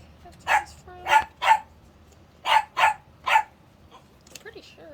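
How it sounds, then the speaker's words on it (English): Several dogs bark in two quick bursts of three sharp yaps each, fairly close and loud, with a faint whine trailing at the end over a quiet indoor background. "the dogs are all good, the cat's good, until I go to video, and then they want to yap."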